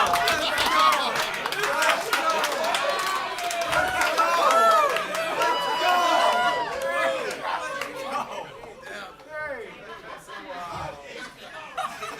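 A comedy show audience claps and chatters, with scattered laughter and a lively mix of voices that gradually thins toward the end.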